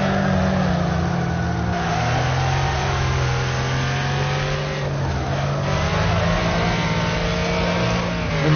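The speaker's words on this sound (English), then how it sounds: "See how that downshift in it just gives you that big boost." A race car in the demolition racing game Wreckfest revs hard through a downshift. The engine drones loud and continuous, and its pitch climbs and surges for several seconds without a break.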